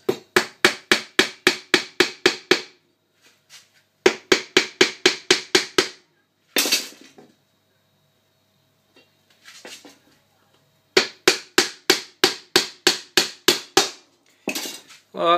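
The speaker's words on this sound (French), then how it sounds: "on va venir clouer le tasseau qu'on n'a pas encore percé" A hammer drives nails into a wooden batten while building a braiding stand for paracord, striking in quick bursts of about eight to ten close, loud, sharp blows with short pauses between.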